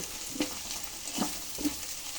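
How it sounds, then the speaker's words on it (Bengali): Pastes of garlic, cumin, fennel and black pepper frying in oil, a steady close sizzle with three soft stirring strokes spaced evenly. "রসুন বাটা জিরে বাটা মৌরি বাটা গোলমরিচ বাটা তেলের মধ্যে ভালো করে ভেজে নেব"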